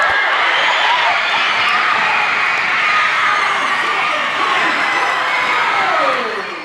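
Seventh and eighth graders cheer and shout for classmates at a school competition, a loud, dense crowd roar that holds steady throughout before easing slightly at the end.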